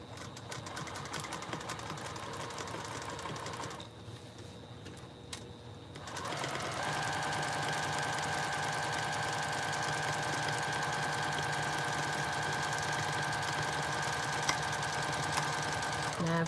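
Sewing machine stitching down a seam during free motion quilting, a steady mechanical whir that pauses briefly, then resumes with a continuous buzzing run at a constant, unhurried pace.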